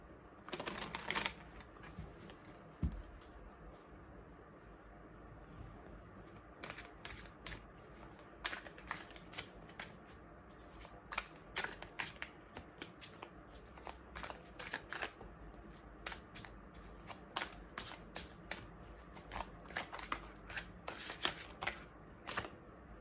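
Tarot cards being shuffled by hand, a long run of quick riffling and soft shuffling bursts, close and fairly quiet, with no voices.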